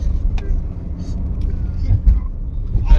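Car driving along the road to the airport in Kolkata, a steady low rumble of engine and road noise heard from inside, with faint passing traffic.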